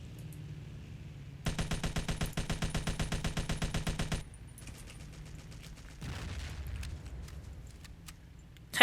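Rapid automatic machine gun fire from a heavy two-man machine gun in the first Battlefield game: one loud, evenly spaced burst of about three seconds, followed by quieter scattered battlefield sounds and distant shots.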